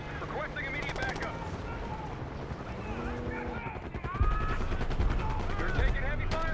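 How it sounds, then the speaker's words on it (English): Distant gunfire from a Call of Duty Black Ops 6 desert battle, rifle and machine-gun bursts rattling repeatedly in the background beneath voices and a low helicopter rumble, growing heavier toward the end. "Gunfire behind us."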